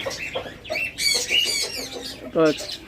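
Budgerigars and cockatiels in a breeder's aviary, giving repeated close chirps, squawks and warbling calls in quick irregular bursts, with a person talking over them.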